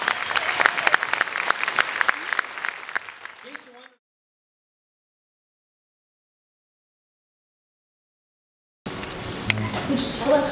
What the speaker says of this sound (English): How about a round of applause for the judges first?